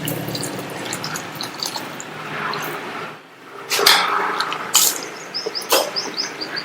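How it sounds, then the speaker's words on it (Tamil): Warm water is poured onto cauliflower florets seasoned with rock salt and turmeric, giving a close, splashy trickle that comes in uneven bursts with brief pauses and no talking. "இதுல கொஞ்சமா கல்உப்பும் மஞ்சள் தூளும் சேர்த்துட்டு வெதுவெதுப்பான தண்ணி சேர்க்கிறேன்."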